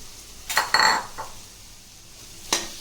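A metal spoon stirs boiled rice into vegetable fried rice in a pan, giving a few scraping clinks and a soft rustling scrape before one more sharp knock against the pan.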